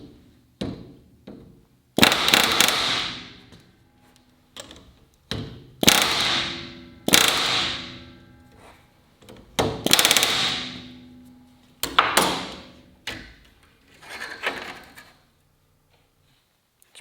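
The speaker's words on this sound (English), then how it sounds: "this spring and collar hold parts together as the pounding action occurs inside the collar" Rivets on a Land Rover Series 3 seat box are hammered with a back riveting set, giving loud, sharp metallic pounding in short clustered bursts separated by brief pauses, with no talking.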